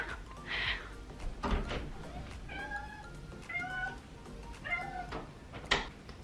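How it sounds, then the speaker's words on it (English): A house cat meows several times indoors, drawn-out cries spaced across the moment, with a light knock or thump at the door near the end; fairly close and alone, no talk. "I just had to let my cat in the room, so if he's meowing, just ignore him."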